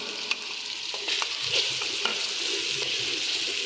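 Ginger, garlic and chopped tomatoes fry in a pan, giving a steady close sizzle punctuated by a few scraping stirs and light clinks, with no talk.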